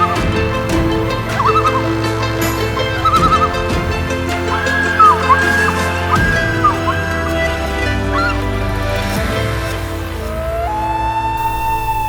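A common loon calls at Seney with warbling, rising and falling cries, ending in a long upward-sliding wail. The calls sit over a constant tonal background.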